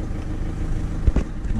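A Ford Fiesta 1.4 TDCi diesel engine, overdue for a service and with black oil, idles at close range with a steady low rumble and a couple of slightly louder bumps near the end.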